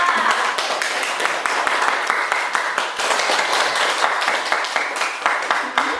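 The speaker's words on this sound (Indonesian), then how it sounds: "Tepuk tangan untuk kelompok 2" Children in an elementary classroom clap for a student group, a lively, uneven burst of hand claps sustained at moderate loudness throughout, with some voices mixed in.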